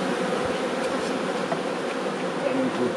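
Honey bees hum in a dense, continuous swarm-like drone during a summer hive inspection at honey harvest, close and steady with no clear speech over it.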